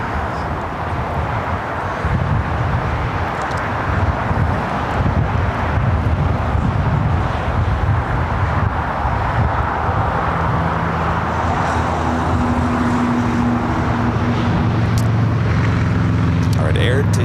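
A Boeing 787-9 Dreamliner bound for Papeete rolls down runway 25 right at LAX, a loud, sustained roar of jet engines and wind rumble that builds steadily, heard from a distance outdoors.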